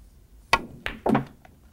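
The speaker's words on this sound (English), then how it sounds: "I want to pocket the 1 ball in the corner, bounce off the bottom cushion, and come back down here for shape position on the 3 ball." Pool cue strikes the top of the cue ball for a topspin shot that pockets the 1 ball in a corner pocket: a sharp tap, then a clack of balls and a thud into the pocket, close and isolated in a quiet room.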